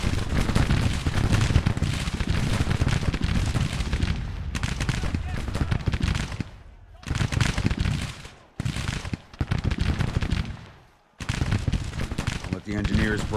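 Civil War battle in the Grand Tactician strategy game: cannons fire canister shot amid dense, continuous rolling gunfire and booming volleys, loud and close, with brief lulls in between.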